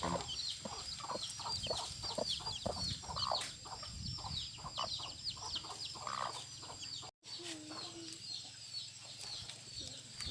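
Domestic hens, some brooding, cluck repeatedly in a quick, uneven rhythm nearby, with soft chirps mixed in and a momentary drop to silence partway through.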